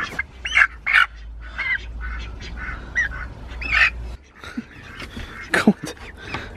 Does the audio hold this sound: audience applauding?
no